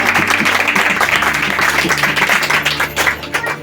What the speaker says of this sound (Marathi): एक जोरदार टाळी